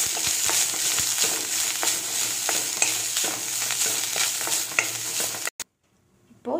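Grated coconut and dried red chillies fry in oil with a continuous close sizzle, punctuated by repeated stirring scrapes, before the sound cuts abruptly to near silence.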